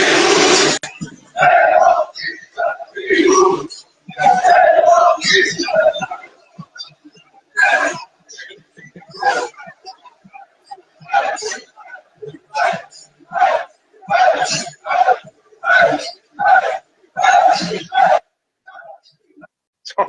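Wrestling crowd at WWE Backlash in France chanting for Jey Uso, loud rhythmic bursts of massed voices repeating in regular pulses after an opening swell of cheering.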